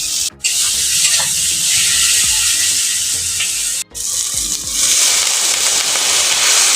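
Kashmiri chilli powder masala sautéing in oil for a lote fish curry, giving a loud steady hiss and sizzle with two brief dropouts, no voices.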